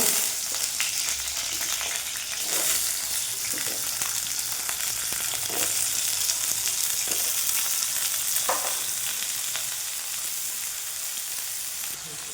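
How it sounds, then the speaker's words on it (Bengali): Potatoes sizzling in mustard oil in a wok, a steady loud crackling fry lasting throughout, with occasional stirring scrapes and no talk. "আলুটা নুন হলুদ দিয়ে ভেজে নেব"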